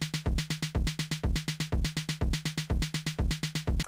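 Train-style beat programmed on a Pocket Operator PO-33 sampler, a fast, steady chugging rhythm of close, punchy hits repeating evenly throughout with no voice.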